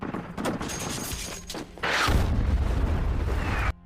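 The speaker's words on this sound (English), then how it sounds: "asked for an artillery attack to bombard the group of ISIS" Artillery bombardment on a group of ISIS fighters in a war film: a sharp crack near the middle gives way to a loud, sustained rumbling boom that rolls on for over a second before cutting off, with busy battle noise beforehand.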